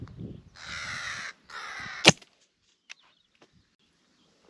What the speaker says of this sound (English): Just about to have me last bite and a bloody crow comes in.